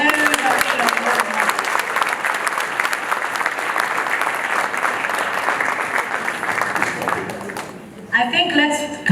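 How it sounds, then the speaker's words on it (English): An audience at an East Africa Law Society annual conference applauds a keynote speaker: steady, full clapping that holds for several seconds, then a voice begins talking near the end as the applause fades. "let's clap for him even more"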